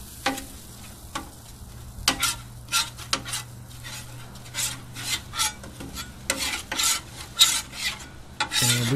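Butter and oil sizzle on a Blackstone 22-inch griddle while a spatula scrapes and spreads them, with repeated rasping strokes over a steady hiss and no talking.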